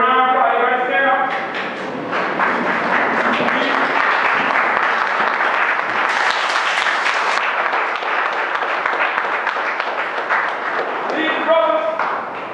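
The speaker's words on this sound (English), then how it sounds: "y'all give me a round of applause" A crowd at a gathering in Waycross, Georgia breaks into loud, dense applause that fills the room, with voices shouting and cheering over the clapping, some of them at the start and end.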